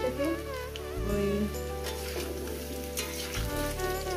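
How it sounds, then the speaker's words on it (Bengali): Taro and potato pieces frying in oil over a medium gas flame, a loud close sizzle with a steady crackle, briefly broken by two stirring shifts, with no talking. "কচু আলুটাকে ভেজে নিচ্ছি।"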